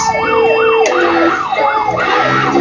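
A loud siren wails in rising and falling sweeps, repeating rapidly and continuously over a layered electronic tone, close and prominent.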